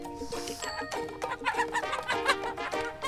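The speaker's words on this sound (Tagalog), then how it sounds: "Ito ang ating mga tandang. Excited pa silang sumalubong sa akin." Pastured roosters on a farm cluck and call close by in a busy, overlapping chorus of short, irregular bursts.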